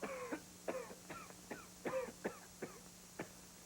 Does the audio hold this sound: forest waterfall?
no